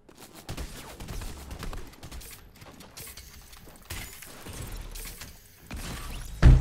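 Gunfire in the Fortnite video game, shots shooting at a spot, arriving as scattered bursts and volleys over game sound, louder near the end, with no talk.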